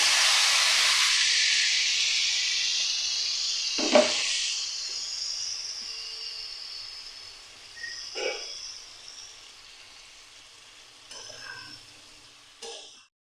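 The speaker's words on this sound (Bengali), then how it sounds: "এবার আমি মাখা কপিটা দিয়ে দিলাম।" Hand-mashed boiled cabbage hits a hot pan with a loud, bright sizzle that slowly fades into a softer hiss, broken by a few clanks and stirs; no one speaks.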